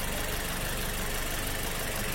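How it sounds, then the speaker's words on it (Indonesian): Car engine idling after a fuel injector replacement, a low steady rumble with faint knocking vibration, continuous and fairly quiet with no voices. "kita coba nyalakan mesinnya"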